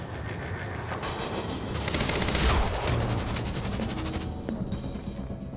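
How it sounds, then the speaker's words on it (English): Continuous heavy gunfire from the video game Quantum Break: loud, sustained automatic bursts that rattle on without pause over a dense rumbling background, with no speech. "Who the fuck is shooting at me?"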